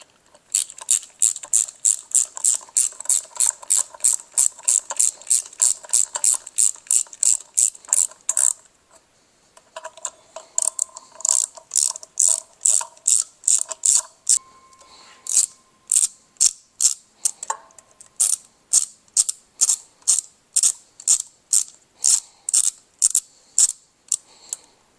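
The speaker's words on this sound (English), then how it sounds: "Get all the bolts started. Get them all tightened," A hand ratchet clicks rapidly while tightening bolts on junkyard parts for a 5.3 LS engine, with crisp, close bursts of steady ratcheting separated by brief pauses, loud and alone with no talk.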